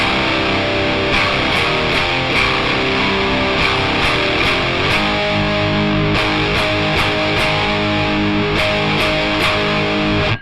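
Distorted electric guitar power chords from the chorus of a song, played slowly and steadily with clear sustained chord changes and no talking.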